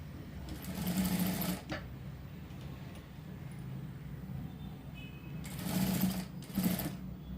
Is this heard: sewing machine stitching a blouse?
yes